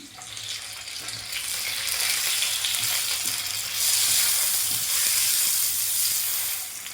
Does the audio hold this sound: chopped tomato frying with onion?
yes